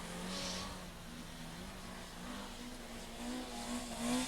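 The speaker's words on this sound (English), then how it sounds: "Who's your money on here then, Arthur? The Fiesta or the Starlet?" Rally cars, a Ford Fiesta and a Toyota Starlet, race on an indoor short circuit rally course, heard as faint, distant engine drone with rising revs throughout.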